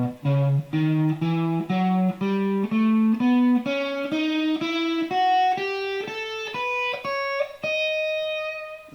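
An electric guitar plays a sequenced melodic minor scale pattern, picking clean single notes one after another in a steadily rising run, with the final note left ringing.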